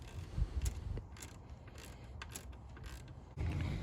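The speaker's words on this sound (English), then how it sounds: "Using a 13mm socket and a ratchet and some proper force and motivation, we can loosen the bolt for the idler pulley." A ratchet with a 13 mm socket works loose the idler pulley bolt on a Chevrolet S10 4.3 V6, producing close mechanical clicks and creaks in short bursts with a heavier clunk near the end.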